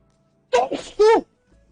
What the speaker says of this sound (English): I hate when I sneeze like that.